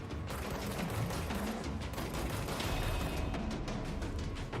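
Rapid, dense gunfire from the Foundation DLC of the video game Control, sustained bursts of shots overlapping throughout with no pause, loud and close.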